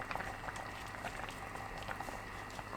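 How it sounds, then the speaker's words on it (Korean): Kimchi stew with dried pollack and chili peppers bubbles in a pot, a dense, steady, close-up simmering burble with small pops. "뚜껑 닫고 중약불로 5분 더 끓여주세요"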